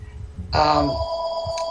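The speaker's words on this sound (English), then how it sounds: "oh, there's the phone." A telephone rings once, a bright electronic trill that rises clearly over a quiet background and fades, with a faint voice nearby.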